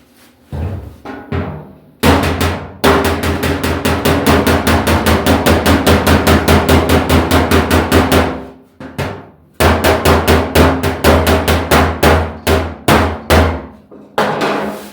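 Metal-on-metal hammering with a hammer and dolly on a 1966 Mustang door, loud close rapid blows in fast even bursts, a pause, then another run of sharp ringing strikes.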